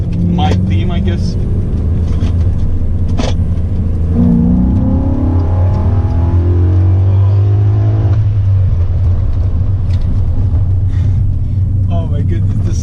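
A supercharged 1995 BMW E34 530i with a 540 engine swap drones loudly from inside the cabin, its engine rising in a revving pull midway over a constant low rumble, with a voice speaking briefly.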